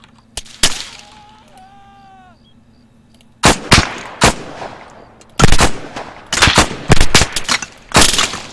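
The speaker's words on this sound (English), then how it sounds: "LMG fire is hurting me pretty bad." Light machine gun fire in Arma 3, heard as several loud, sharp bursts of automatic shots in quick clusters, with a short tonal whistle-like sound early on and a quiet pause before the heavier volleys.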